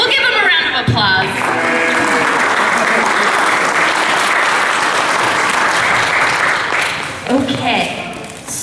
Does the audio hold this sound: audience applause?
yes